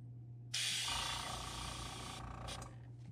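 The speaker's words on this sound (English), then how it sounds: "Mainly going to be spraying on the popsicle stick here." A steady spray paint hiss starts abruptly and continues for a few seconds close by, spraying a popsicle stick while custom painting a crankbait fishing lure, with a low hum underneath and a short break near the end.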